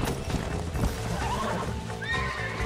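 A horse whinnies in the Western video game Red Dead Redemption, a rising, shrill neigh heard clearly over trotting hooves and game ambience, with no talk over it.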